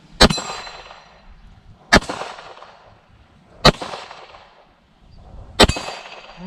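A Beretta 92S pistol fired at a small steel plate, four shots spaced roughly two seconds apart, each a sharp report with a ringing metallic clang and a short decay.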